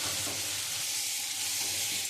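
Potatoes frying with spices in a pan for a fish curry give off a steady, close, dense sizzle that holds unbroken throughout, with no voices.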